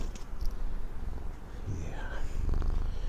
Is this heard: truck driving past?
no